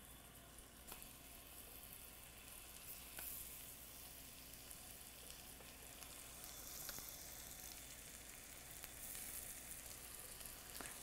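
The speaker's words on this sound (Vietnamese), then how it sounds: "cái mặt xuống trước để chúng ta chiên cho nó đẹp cái mặt ở dưới" Bananas frying in caramelizing sugar in a pan, a faint, even sizzle with soft crackles and a few small ticks, steady throughout with no one speaking.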